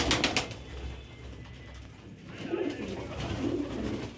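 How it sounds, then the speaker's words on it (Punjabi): A female pigeon gives a couple of soft, low coos near the end, after a brief flutter of sound at the start. "ਹਰਾ ਕਬੂਤਰ ਆ ਤੇ ਡਾਹ ਵਾਲੀ ਮਾਦੀ ਆ"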